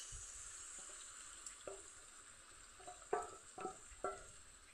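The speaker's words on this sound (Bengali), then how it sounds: "মশলা আমার কষানো হয়ে গেল এখন আমি কচুটা দিয়ে দিচ্ছি" Taro is dropped into a spice paste frying in a pan, giving a steady quiet sizzle with several short bursts of crackle and stirring clatter.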